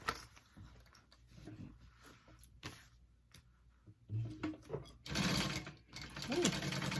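A sewing machine bastes a piece of a handbag in short, quiet bursts of stitching separated by pauses and small clicks, growing louder and faster toward the end of the sequence.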